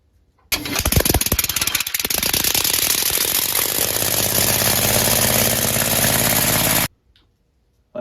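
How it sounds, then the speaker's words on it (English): A compressed-air 3-cylinder oval engine starts abruptly and runs loud and steady for about six seconds with a fast rattling, chattering beat, then cuts off sharply into silence. "and last, my 3-cylinder oval engine."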